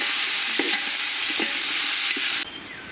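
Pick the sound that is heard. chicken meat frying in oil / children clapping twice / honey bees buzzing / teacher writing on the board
chicken meat frying in oil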